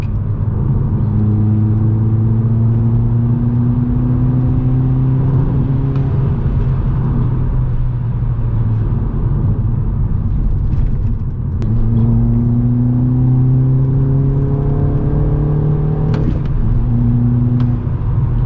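Modified VW Golf Mk6 with a 1.4 TSI engine drives on open roads, its engine note climbing steadily through the revs, dropping at each gear shift and climbing again, loud and continuous throughout, with no talking.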